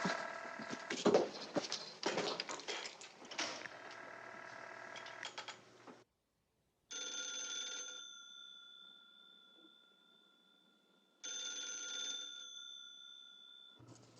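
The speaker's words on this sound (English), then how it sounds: "Answer your phone, Blondie." An old telephone bell rings in a 1954 film noir crime film, sounding in two sustained bursts after a stretch of clattering mechanical noise, fairly faint with silent gaps between.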